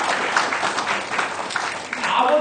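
An audience at a bilingual session claps for a man, a short burst of fairly loud, dense applause that holds steady and swells slightly near the end.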